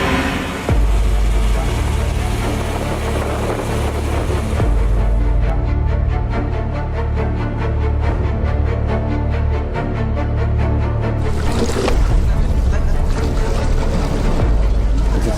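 Small boat engine chugging loudly and steadily as the boat heads out to sea, a continuous close motor rumble with water and wind noise over it.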